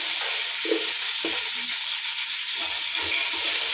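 Onions and green chillies fry in a pot for Sunday chicken dum biryani, a steady close hiss with a few soft scrapes and knocks, no voices.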